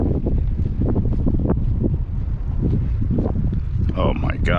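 Strong wind blowing across an open neighborhood pond while fishing, loud constant buffeting rumble over the microphone, with someone talking over it.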